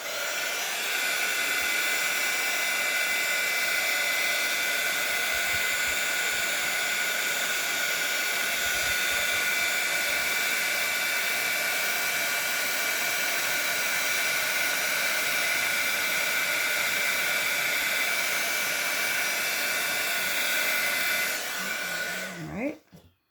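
A craft heat tool blows steadily to melt embossing powder on a stamped card, giving a constant loud hair-dryer-like whoosh for over twenty seconds before it is switched off.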